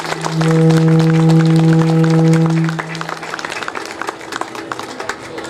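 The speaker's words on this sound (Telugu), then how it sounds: "please give them a big round of applause" Audience applause at a temple cultural programme at Kanaka Durga Temple, Vijayawada: a steady patter of many hands clapping, with a sustained droning tone over the first half before the clapping carries on more thinly alone.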